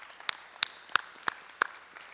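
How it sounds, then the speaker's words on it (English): Scattered claps from a small audience applauding students at a school gathering, about six sharp separate hand claps spaced roughly a third of a second apart, faint and thin rather than a full ovation. "So let's give those students a round of applause."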